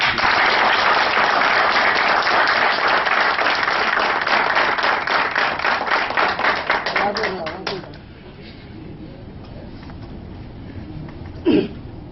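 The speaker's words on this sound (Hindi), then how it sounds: "तो कभी खुद के लिए जोरदार ताली बजाइए कि नहीं आप?" Loud, dense applause from an audience at a motivational event fills the first half with rapid overlapping claps, then fades out, leaving quieter room sound with a brief voice near the end.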